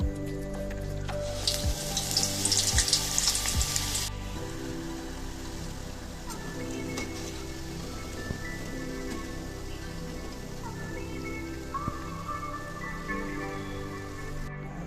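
Medu vada batter, a soft lentil dough, sizzling and crackling steadily in hot oil, a dense bubbling hiss that is loudest at the start and then settles into a quieter continuous fry.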